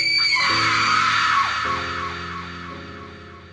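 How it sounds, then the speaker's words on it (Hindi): A terrible scream echoes through a haunted mansion, one loud shrieking cry held for over a second before decaying into a long reverberant tail with faint lower tones beneath. "हवेली में एक भयानक चीख गूंज उठी"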